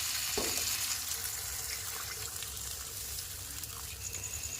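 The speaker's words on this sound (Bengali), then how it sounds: "তো আলুগুলো এবার কষা হয়ে গেছে, এবার জল দিয়ে দেবো" Water splashes into a pan of sautéed spiced potatoes for a rohu fish curry, one brief pour at the start giving way to a soft, continuous bubbling and hiss of liquid meeting the hot pan.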